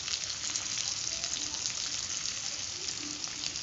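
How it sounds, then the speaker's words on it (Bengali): Two sliced onions with broken dried red chillies fry in oil, giving a soft, steady, crackling sizzle that holds evenly throughout at a low level. "পেঁয়াজটা অনেকটাই ভাজা ভাজা মতো হয়ে এসছে"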